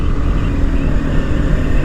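A motorcycle rides along a mountain ghat road in the Konkan, its engine a steady, close drone mixed with rushing wind and low rumble, with no voices over it.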